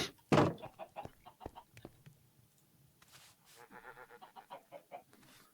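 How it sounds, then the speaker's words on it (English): Chickens cluck in a Minecraft Stone Block modpack, giving short, fairly quiet bird calls with soft game clicks and a louder sharp burst near the start. "Got some chickens."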